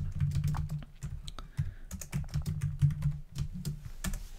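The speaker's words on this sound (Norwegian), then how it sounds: "så kan du da skrive din egen tekst" Rapid keystrokes tap on a computer keyboard in a quiet room, an uneven stream of light clicks close to the mic with no speech.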